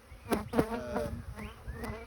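Honey bees buzzing close by as a hive frame is lifted straight up during an inspection of a brood-filled colony, a steady hum with a few sharper passes of individual bees, fairly quiet.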